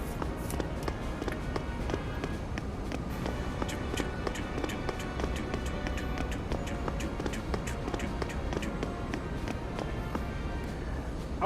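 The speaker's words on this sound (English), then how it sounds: "I always find it weird that in video games they make the footsteps so loud" Loud, rapid footsteps of a character moving through Junon in Final Fantasy VII, a dense steady patter of taps running continuously over game music and ambience.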